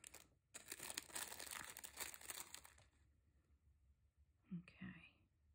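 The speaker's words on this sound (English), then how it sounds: "Let's cut that bag back a bit" Plastic bag crinkling and rustling as scissors cut it back during Christmas stitchery crafting, a dense close-up crackle for about three seconds, then a pause and a brief second rustle near the end.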